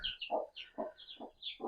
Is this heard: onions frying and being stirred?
no